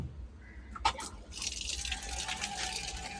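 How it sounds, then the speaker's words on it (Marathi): Clothes rinsed in plain water being wrung out by hand, heard as a close, steady wet splashing and trickling of water with a brief sharp splash near the start. "हे बघा इथं साध्या पाण्याने पिळून काढतोय फक्त."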